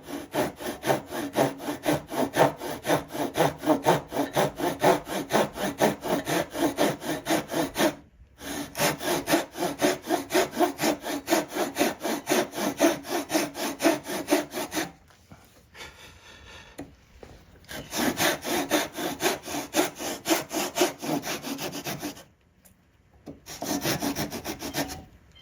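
A hand saw cutting a dovetail into a wooden leg, rapid rhythmic rasping strokes close up in long runs, broken by brief pauses and one longer quiet gap.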